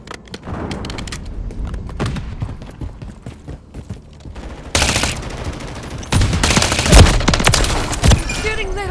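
Bursts of rapid gunfire in a video game, sustained automatic volleys building louder in the second half with sharp close shots over background game noise.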